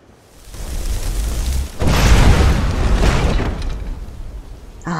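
Fire magic cast in the video game Skyrim, a loud sustained whooshing roar that builds quickly, holds for a few seconds and then fades, with no talk.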